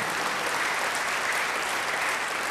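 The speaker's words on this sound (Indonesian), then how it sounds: "beri tepuk tangan bagi dia" A congregation applauds during a church sermon, a dense, steady wash of clapping that holds at a constant level throughout.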